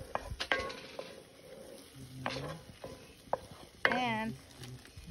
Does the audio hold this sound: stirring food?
yes